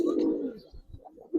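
Racing pigeons, among them silver racers, coo in a short, close burst, one low throaty phrase followed by softer broken coos, with no one talking.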